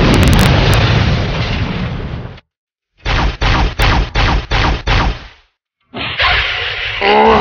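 Fuel rod cannon fire in a Halo fan film: a long roaring blast, then a rapid burst of about six sharp, evenly spaced loud bursts, followed by another loud roar.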